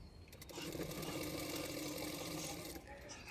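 Sewing machine stitching the side seam of a kurti, folded from the hip downward, running in one steady continuous burst with a fine rapid needle rhythm, close and fairly quiet.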